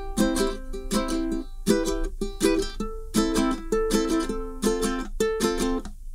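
A ukulele plays a song with bright strummed and plucked chords in short clustered bursts separated by brief pauses, close-miked and alone without talk.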